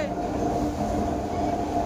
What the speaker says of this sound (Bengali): ট্রেনে এত আওয়াজ হচ্ছে কিছু শোনা যাচ্ছে না